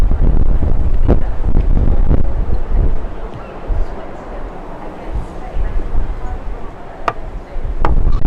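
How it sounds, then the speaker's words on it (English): Steady outdoor wind buffets and rumbles across the microphone for the whole stretch, loud and broadband with a few sharp gusty knocks, briefly easing in the middle before building again. "This wind is just a blowing."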